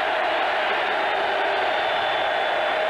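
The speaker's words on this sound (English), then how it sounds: "Now the crowd getting into the game." A football stadium crowd at a 1990 Denver Broncos at Kansas City Chiefs game roars in a steady, loud wash of cheering that stays constant and unbroken throughout.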